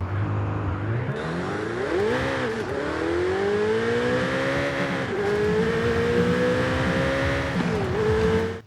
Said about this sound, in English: let's go and take a listen